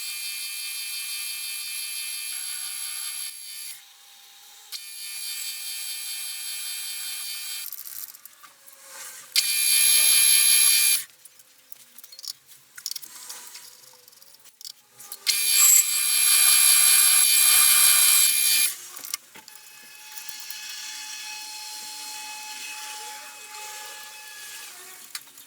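Drill boring holes in a metal part for a homemade shaper machine, loud sustained high whine in several bursts with quieter mechanical workshop noise between, no talking.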